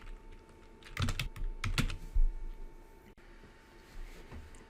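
Typing on a computer keyboard to enter an essay title in a word processor, two quick bursts of close key clicks followed by a few sparse, softer taps, with no talking.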